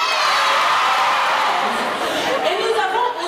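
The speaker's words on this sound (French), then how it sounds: "depuis tout à l'heure, vous êtes en train de crier" An audience at the Miss Mali France 2014 pageant in the Cirque Diana Moreno shouts and cheers, a loud sustained crowd roar with scattered whoops and chatter.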